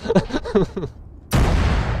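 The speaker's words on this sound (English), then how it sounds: "Just a lot of explosions." A sudden loud explosion bursts in after a brief spoken phrase, its broad rumbling blast sustained and echoing through an Arma 3 town during a military training operation.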